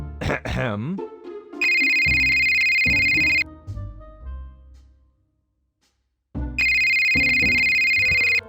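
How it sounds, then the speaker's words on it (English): An electronic phone ring in the PC game Scott Whiskers: The Search for Mr Fumbleclaw trills twice in long bursts, loud and steady, with a pause between; game music and effects play around it. "when a phone suddenly starts ringing"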